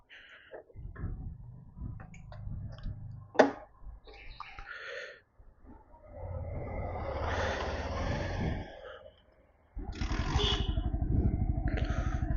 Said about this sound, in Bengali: বাইক স্টার্ট দিয়ে দিয়েছি